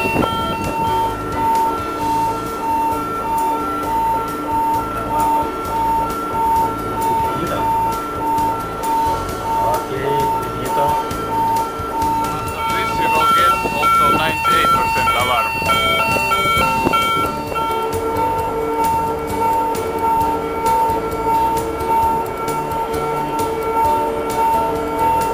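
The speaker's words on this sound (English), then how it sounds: "When the float is heaved up, you will get first 95 alarm." A tanker's high-level alarm, triggered by a raised float, beeps in a fast, even pulse for the whole stretch, over a constant mechanical hum with faint background noise.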